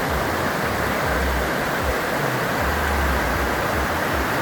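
Waterfall with dark water pouring over rocks, a loud, continuous broadband roar close by with a low rumble underneath and no voices.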